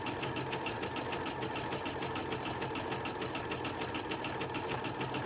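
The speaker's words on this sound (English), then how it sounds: "This stitch takes a little longer to do because it's sewing extra stitches in there" A sewing machine runs steadily as it stitches a stuffed gingerbread craft, its needle tapping in a fast, even rhythm with a close, constant motor hum throughout.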